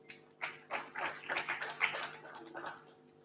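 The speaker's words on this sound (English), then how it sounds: "can we please give her a round of applause?" A small crowd at the Abuja International Housing Show gives a guest a brief, scattered round of applause, light uneven claps rising and fading over a few seconds in a large room with a faint background hum.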